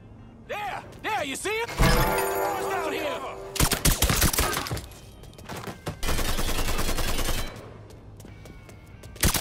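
Bursts of automatic gunfire and single shots in a Mafia III shootout, loud and close, with crashing impacts and shattering debris between volleys. Voices briefly call out over the firing.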